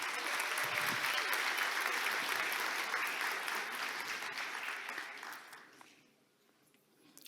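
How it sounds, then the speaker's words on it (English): Tech conference audience applauding in a hall, a sustained dense round of clapping that fades out toward the end, with faint talk near the finish. "Give my wife a round of applause for saving the day."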